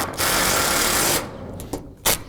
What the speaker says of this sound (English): Just want to make sure that I'll be able to lean across and get all of these screws in.